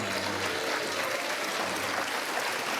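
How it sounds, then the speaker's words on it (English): A studio audience at a daytime talk show claps and cheers in a dense, steady wash of applause that holds at full strength throughout, close and loud. "You see that hand clap, that crowd, she lives for that."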